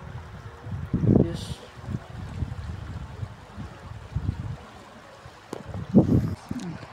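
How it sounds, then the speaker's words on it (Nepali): A jungle stream flows with a soft, steady rushing wash, close by and fairly quiet, while a person talks intermittently over it. "अनि यो खोलाको आवाजले चाहिँ छुट्टै पिसफुल भाइब आइरहेको छ।"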